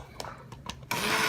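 A few light knocks come first, then a blender pureeing butternut squash soup in a pot kicks in suddenly, a loud, dense whirring roar close by that runs to the end.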